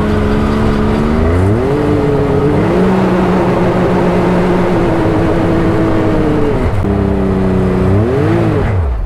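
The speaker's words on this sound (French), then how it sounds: "Il n'y a qu'une seule roue qui patine, je crois." A car sits stuck with one wheel spinning, its engine holding a loud steady drone that rises and falls in pitch as the throttle is worked, revving up near the end, close by.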